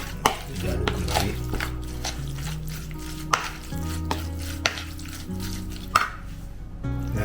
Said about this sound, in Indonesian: Diaduk kembali.